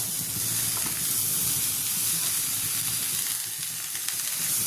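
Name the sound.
dill leaf vegetable frying and wilting in a pan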